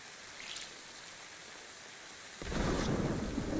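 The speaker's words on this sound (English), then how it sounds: "I'm curious if the closer the lightning bolt is, the faster we hear the thunder." In a DayZ survival game, a lightning bolt's thunder arrives as a sudden rumbling roar after a faint crackle, swelling to a loud, sustained low boom with rain-like hiss, no voices present.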